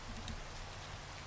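Rain falls in Minecraft Java Edition as a steady, even hiss of raindrops that holds at a constant level throughout, with no other sounds.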